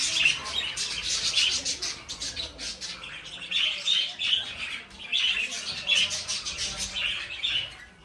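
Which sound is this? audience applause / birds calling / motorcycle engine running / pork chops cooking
birds calling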